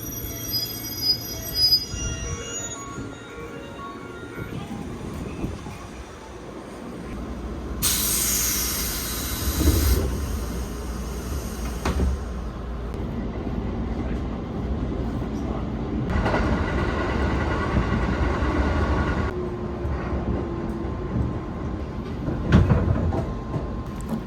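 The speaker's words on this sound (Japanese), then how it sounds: "まもなく上り列車が" A train on the Shinonoi Line rolls into Murai Station with a low rumble, and high metallic wheel squeals rise and fade in long stretches as it slows.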